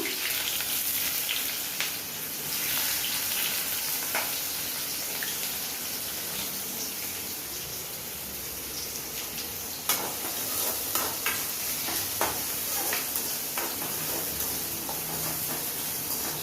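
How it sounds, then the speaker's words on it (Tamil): Onions sizzle steadily in hot mustard oil with mustard seeds in a pan, a continuous loud frying hiss with scattered crackles and pops and occasional stirring, no talk. "வெங்காயம் போட்டுக்கிடுவோம்"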